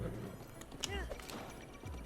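Horse hooves clip-clopping at a gallop in the Breath of the Wild video game, a brief run of hoofbeats heard under a player's excited talking.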